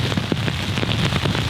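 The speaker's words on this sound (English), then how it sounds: "It's been continuously raining through the night" Rain falls steadily and densely in the Yukon wilderness, a loud, close patter on a surface with scattered heavier drops and no talk.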